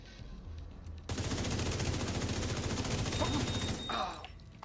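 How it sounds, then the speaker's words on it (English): Rapid automatic gunfire from shooting an enemy in a video game, a dense, loud burst of fast repeating shots lasting about three seconds, preceded and followed by quieter game ambience. "we're gonna shoot this guy in the legs"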